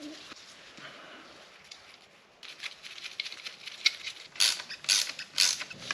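The shifter ball seat on a Honda CRX shifter being tightened: soft mechanical creaks, then a run of sharp ratcheting clicks and scrapes growing louder toward the end, close up.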